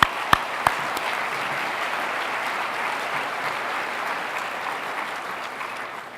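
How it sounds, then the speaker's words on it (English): A crowd at the Phoenix mayor's State of the City address applauding steadily, loud and sustained clapping that fills the space, with a couple of sharp claps at the start. "Please give them a round of applause."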